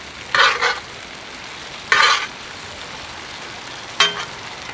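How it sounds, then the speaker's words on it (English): Mama Lil's peppers and sauteed onions being stirred into a frying pan for a cheesesteak, three short bursts of sizzling and scraping separated by quiet gaps. "Now we're just going to stir those in."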